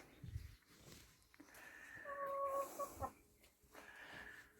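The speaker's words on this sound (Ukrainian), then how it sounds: "Оце курочка." Hens cluck softly in a coop that holds a grain chest, feeder and waterer, with a few short, faint calls near the middle.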